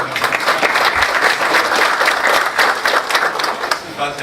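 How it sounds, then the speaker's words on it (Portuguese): A crowd at a Paraná political debate breaks into loud, dense applause that holds steady for the whole stretch, with many hands clapping close together and no clear pause. "uma salva de palmas"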